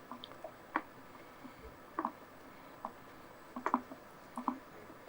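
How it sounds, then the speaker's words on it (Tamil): Bread dough for bread gulab jamun, made with crumbled bread and the remaining bread mixed in, being kneaded by hand, giving soft, sparse squishes and sticky presses at irregular intervals, quiet and close with no talk. "மீதம் இருக்கிற இந்த பிரெட்டையும் சேர்த்துடலாம். சேர்த்துட்டு நல்லா அப்படியே பிணைஞ்சு எடுத்துருங்க."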